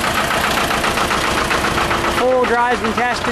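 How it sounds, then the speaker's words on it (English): A small Lister two-cylinder diesel engine on a Winget mini articulated 4x4 dump truck runs with a steady, knocking idle, close and loud, while someone talks over it. "powered by a little Lister two-cylinder diesel engine"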